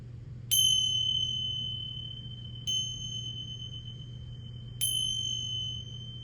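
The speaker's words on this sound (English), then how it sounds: "The sounds of bell," Three clear, bright bell strikes spaced about two seconds apart, each ringing out and slowly fading over a low steady hum.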